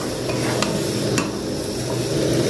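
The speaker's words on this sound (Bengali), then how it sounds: "আলুগুলো কষে নেবো ভালো করে।" Potatoes are stir-fried with spices in a pan, a dense continuous sizzle close by, punctuated by a couple of sharp scrapes and taps of a utensil against the metal.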